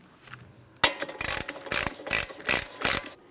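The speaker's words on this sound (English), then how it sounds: "When installing your axle nut, never use an impact tool. You can only use hand tools." Hand ratchet tightening the axle nut on a 2011-2021 Jeep Grand Cherokee during a front left CV axle replacement, a burst of clicks followed by five loud, evenly spaced ratcheting strokes close by with no talk.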